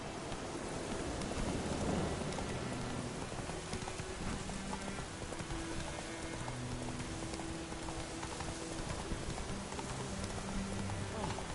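Roach, the horse in The Witcher video game, gallops through rain with a steady clip-clop of hooves over constant rainfall and a low rumble, all at moderate loudness.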